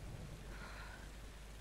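Steady rain pours down in the Tomb Raider video game, a dense continuous hiss with a low rumble beneath, even and unbroken throughout with no voices.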